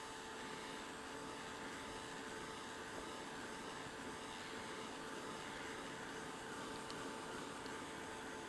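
Handheld dryer blowing on wet paint on an art journal page, a steady, faint airy whir with no change in pitch or loudness.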